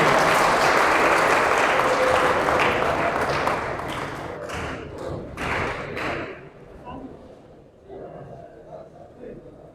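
A room of people claps loudly and densely, then the applause thins into scattered claps and fades away, with a voice emerging near the end.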